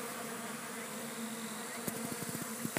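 Japanese honey bees (Apis cerana japonica) from a varroa-resistant colony buzz in a close, steady drone, with a few brief clicks and knocks near the end.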